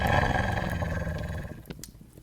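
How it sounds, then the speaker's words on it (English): A wolf growls low and rough in the survival game Vintage Story, a sustained rumbling snarl that trails off into quieter, brief rasps toward the end. "You can hear the wolf."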